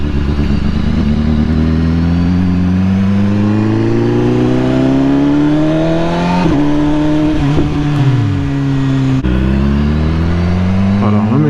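BMW S1000RR sport motorcycle accelerating hard in first gear, engine note climbing steadily in loud rising sweeps with a brief dip near the end before pulling again, close and alone with no talk.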